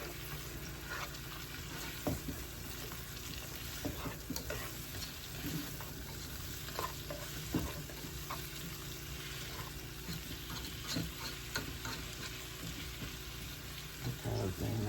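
Pork chops fry steadily in a pan seasoned with thyme and salt, giving a continuous crackling sizzle with scattered pops across the whole stretch, close and fairly loud, with no voices.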